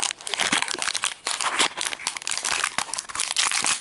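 A tightly taped cardboard box from Hot Topic is torn open, with dense, loud crinkling and ripping of tape and packaging in close, continuous bursts.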